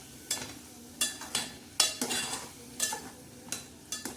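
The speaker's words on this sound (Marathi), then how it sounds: "आणि परत एकदा असं मस्त हलवून घ्यायचं." A spoon scrapes through fenugreek greens and peanut masala in a pan, giving quiet, irregular strokes roughly every half second over a faint sizzle, with no voices.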